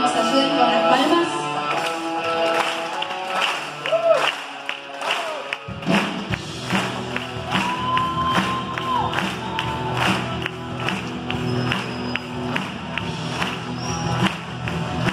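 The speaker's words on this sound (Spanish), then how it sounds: "Te invito a que nos ayuden con las palmas." Audience at a live church conference clapping along in steady rhythm with music, the rhythmic claps strong and continuous after a quieter opening with some cheering from the crowd.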